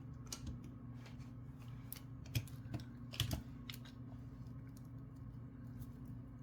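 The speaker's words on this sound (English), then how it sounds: "Now we're going to cut some chain here." Small cutters snip jewelry chain in faint, scattered metallic clicks and ticks, a couple slightly louder, over a low steady background hum.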